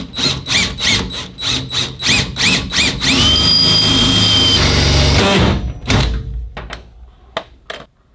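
A power drill whirs in a rapid series of short pulses, then holds one long steady squealing run as it bores out a dimpled metal car part, close and loud, before a few sharp clicks and knocks finish.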